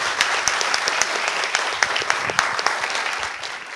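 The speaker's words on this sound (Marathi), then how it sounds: "दोघांसाठी जोरदार टाळ्या." A studio audience claps steadily and warmly for a couple of guests at a Marathi film trailer event, a dense, close spatter of hands lasting several seconds with no voices over it.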